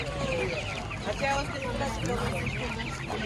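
Chickens cluck continuously among a crowd at a Sunday market in Lisbon, Portugal, with a busy murmur of people and voices mixed underneath the birds.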